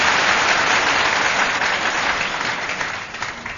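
An audience clapping during an evening satsang kirtan, a dense, steady wash of applause that fades slightly toward the end.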